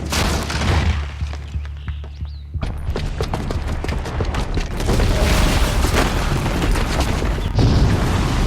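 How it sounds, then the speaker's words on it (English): A bomb blast in the video game Horizon Zero Dawn booms loudly, followed by a dense rumble of debris and scattered crashes that swell and carry on to the end. "the booby trap on the bomb downstairs is gonna get set off"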